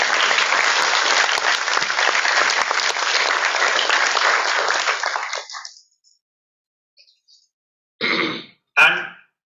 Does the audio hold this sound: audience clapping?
yes